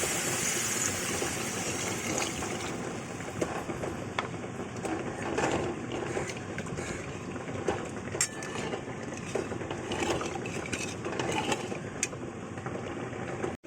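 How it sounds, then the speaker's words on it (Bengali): Water is poured into a cooking pan of spices and over a spice-coated spatula, a close, continuous rushing gush with light clinks and splashes throughout, no talking. "যাতে ধরে না যায় আর তার জন্য অ্যাড করে দেবো জল"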